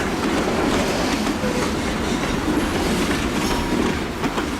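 EJ&E SD38-2 locomotive hauling a train on Iowa Northern rails, a steady close rumble of rolling cars and wheels with faint clickety-clack, gradually building speed.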